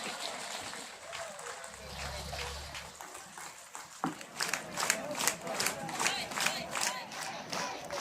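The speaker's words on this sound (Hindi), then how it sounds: "ताली का बरसात होना चाहिए" Crowd at an outdoor Mass Carol gathering in Seppa, East Kameng, clapping and cheering, rising after a brief low rumble into rhythmic, fairly loud applause with voices mixed through the noisy crowd.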